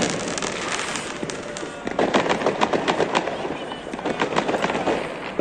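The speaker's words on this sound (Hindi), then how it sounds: "ये देखें इधर भी चला रहे हैं पटाखे।" New Year firecrackers going off from rooftops in Italy, a dense crackling barrage of rapid bangs and pops that swells partway through and keeps rattling, with faint voices underneath.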